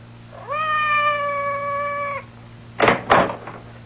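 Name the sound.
cat meowing outside a door in a radio drama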